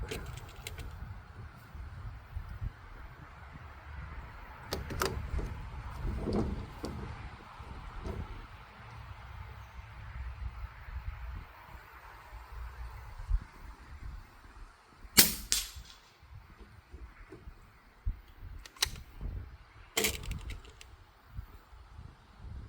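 Air gun pellets strike tin with occasional sharp metallic pings over a low, rumbling outdoor background.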